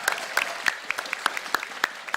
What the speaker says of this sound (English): Give a round of applause for these guys because they are awesome.